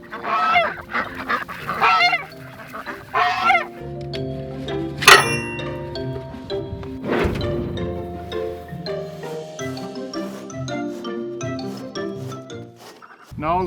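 Ducks call from a homestead shelter ahead of a winter snowstorm, giving a run of loud, nasal honking quacks in bursts, close by and layered over one another.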